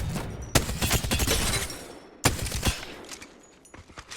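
Fully upgraded gun in Apex Legends fires in two loud, rapid bursts, each a dense rattle of shots with sharp onsets, separated by a brief pause, then trailing off. No talk.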